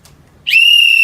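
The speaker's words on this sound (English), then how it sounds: "Little baby doll whistle." A small toy baby doll whistle gives a brief low rustle, then a sharp, loud, sustained high-pitched tone that holds steadily to the end, close and alone.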